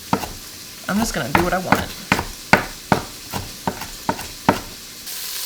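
Sausage frying in a pan, a steady sizzle under a regular series of sharp scraping strokes as it is stirred, close and fairly loud, with a voice speaking briefly at the start.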